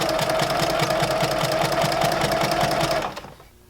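A sewing machine stitches a beginner's baby blanket, running loud and close with a steady rapid hum and rhythmic needle clatter for about three seconds before slowing to a stop.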